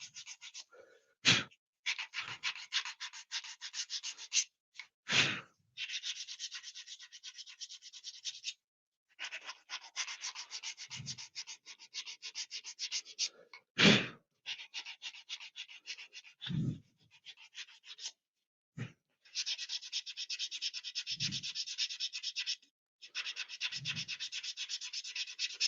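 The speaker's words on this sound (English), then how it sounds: "we need to try and just get rid of the roughness if possible. It's got 80 grit" A conker is rubbed with 80 grit sandpaper in short scratchy bursts of rasping strokes, close and fairly loud, separated by brief pauses and a few soft knocks.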